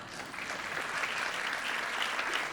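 A church congregation in Lisbon claps together in warm, even applause, moderately distant and steady throughout.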